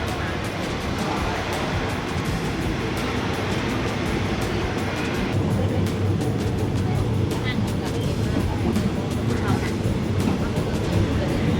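A local train in Thailand pulling out of Udon Thani station, heard from inside as a continuous loud rumble of wheels and carriage noise, with a person talking over it.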